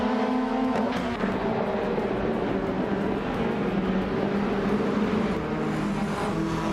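Race cars launch off the line at Alton Park International, led by a 2018 BMW N220 i80 AC on pole in the TCR class. Their engines form a loud, steady, close-up drone that holds throughout with no talk.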